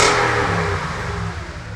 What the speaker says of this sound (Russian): А ну газани резко.